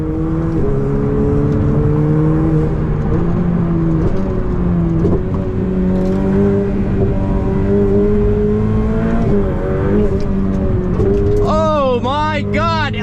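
A Ferrari 488 Pista engine revs high and pulls hard in manual mode, its pitch climbing and dropping repeatedly with each gear change, loud and close, with a voice under it.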